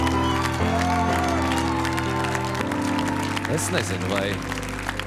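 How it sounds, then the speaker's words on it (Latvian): Clapping from a talent-show crowd continues through the results announcement, a steady wash of applause beneath music while someone speaks over it. "Aplausi ielu vingrotājiem!"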